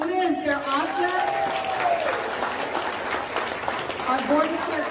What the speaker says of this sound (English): Another round of applause for our beautiful students.